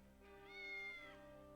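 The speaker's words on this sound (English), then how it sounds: "Hi, cat." A single drawn-out cat meow in the video game Triangle Strategy, a faint, clear, rising-then-falling cry lasting about a second over quiet background music.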